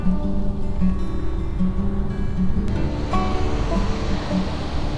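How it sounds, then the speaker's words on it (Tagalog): Ocean waves washing in a steady, continuous roar, loud and close, with a faint low hum underneath. "Ang sarap pakinggan ng tunog ng dagat."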